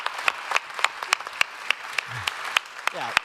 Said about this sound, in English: a little round of applause for our team that put together all of this.